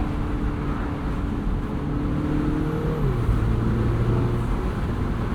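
A 2025 Mini Cooper S Convertible's turbo engine drones steadily and rises in pitch as it accelerates, with a shift partway through, heard from inside the car over constant road noise.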